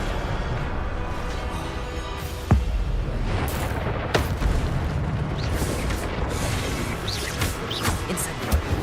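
Fiery spell blasts from the Hogwarts Legacy video game, a dense roaring crackle with several sharp booming bursts over a continuous rumbling game soundscape.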